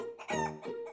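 A human voice imitates a chicken clucking, a close, loud run of three quick squawking clucks with a rising nasal tone.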